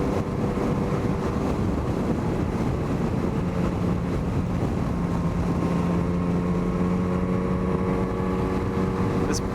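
A 2021 Yamaha MT-09 motorcycle rides through pear and apple orchards near Leavenworth, its engine a continuous steady drone under heavy broadband wind rush.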